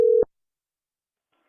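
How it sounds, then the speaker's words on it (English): A short steady telephone tone sounds loud and close for about a quarter second right after a call is hung up, cutting off abruptly into silence. "I'm going to hang up the phone."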